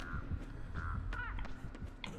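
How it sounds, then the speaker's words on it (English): Crows caw in Dead by Daylight, circling a player's head in a horror survival game, with a few short harsh calls repeating over a steady droning game ambience. "I have crows around my head!"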